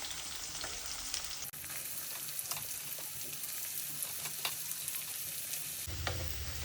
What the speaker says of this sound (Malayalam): എണ്ണ ചൂടായി. ഇനി ഒരു 3 സവാള ചോപ്പ് ചെയ്ത്